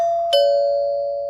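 A wired household doorbell, newly connected to its transformer, gives one clear, sustained electronic chime tone with a second strike near the start, ringing on alone in a quiet room.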